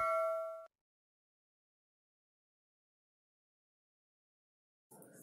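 A single bright notification ding rings out at the start and fades, then a long silence, with a short burst of another sound at the very end.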